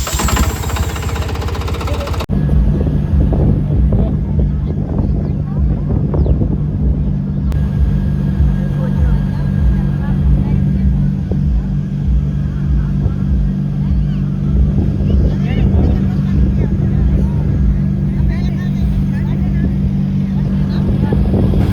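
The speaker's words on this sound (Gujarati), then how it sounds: "ટ્રેક્ટરમાં બધા બેસી ગયા છે. હવે આપણે નીકળીએ છીએ" A loud, steady diesel engine rumbles and knocks throughout, the drone of a tractor driving, with voices talking faintly underneath.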